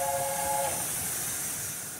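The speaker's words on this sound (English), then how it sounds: "here's the whistle" Brief whistle of an LNER A4 steam locomotive, a short steady multi-tone blast lasting under a second, heard faintly from the footplate over a constant hiss and running rumble.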